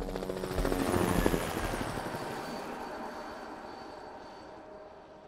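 Helicopter rotors from the Vietnam War film Apocalypse Now, a loud low rhythmic thudding that swells in the first two seconds and then slowly fades into a distant wash.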